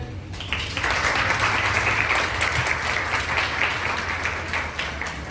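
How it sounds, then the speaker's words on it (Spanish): Sustained audience applause for a doctor being introduced at a talk on educational psychology, a steady dense patter of many hands at moderate level filling the whole stretch with no speech over it. "Un aplauso para la doctora."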